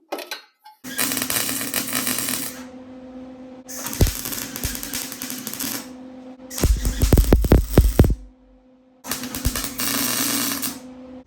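MIG welding a patch panel into the cab corner of a 1973-1987 GM squarebody Chevy C10 or GMC Sierra truck, heard as four loud crackling, buzzing bursts separated by short pauses.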